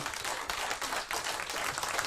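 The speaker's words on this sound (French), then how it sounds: "Merci Totem, on applaudit bien fort" An audience applauds steadily, a dense wash of clapping hands from a small crowd throughout.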